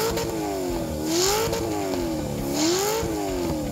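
A Porsche 911 with an LS engine revs up and down twice, its aftermarket exhaust rising into a loud rasping roar before settling back to a throaty idle.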